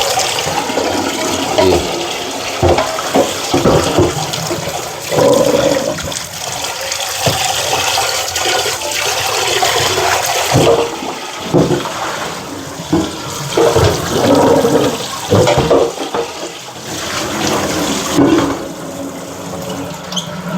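Ingredients for gingi-juk, a traditional Korean porridge, are rinsed under running water, making a loud, continuous splashing gush with surging bursts throughout.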